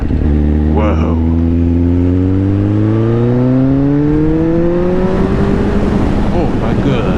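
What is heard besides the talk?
motorcycle engine accelerating while riding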